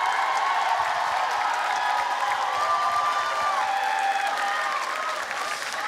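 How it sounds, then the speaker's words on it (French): Audience applause and light cheering for Haiti's contestant in the final song event of the 7th Jeux de la Francophonie: dense, steady, loud clapping from a large crowd filling the whole stretch. "applaudissez encore plus fort pour influencer le jury"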